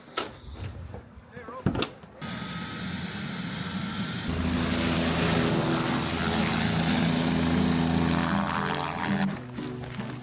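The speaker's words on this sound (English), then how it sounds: "it was really cool to see the helicopters landing and taking off" A helicopter's engine and rotors build to a loud, steady roar nearby after some brief clatter and voices at the start, at a silver mining site in British Columbia's Golden Triangle.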